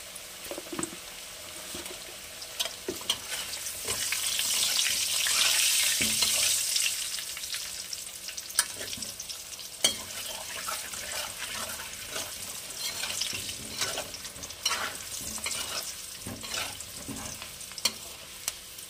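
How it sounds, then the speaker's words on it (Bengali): Vegetables such as potato and cauliflower lightly frying for Bengali khichuri, a steady sizzle that swells for a few seconds, with repeated scrapes and clinks of stirring throughout. "সবজিগুলো আমি বেশি কড়া ভাজবো না, হালকা ভাজবো।"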